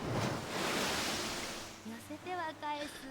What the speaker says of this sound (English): The sound of the waves crashing